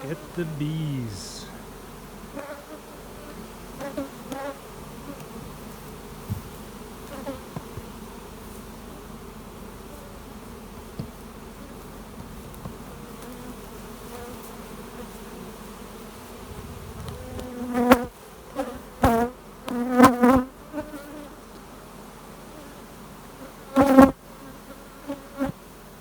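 Many honey bees hum in a bee yard during honey harvest, a steady swarm drone with bees flying close and loud past the microphone in quick passes later on.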